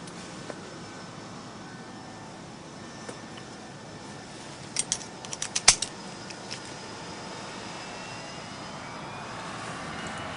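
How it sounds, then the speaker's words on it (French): A passenger airplane taking off, heard from inside as a steady engine roar fills the cabin, with a brief cluster of rattling and clicking near the middle. "Ça y est, on décolle."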